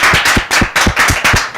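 Applause from a studio audience at a Kenyan television show, loud and close, with the claps bunched into quick rhythmic bursts and short dips between them.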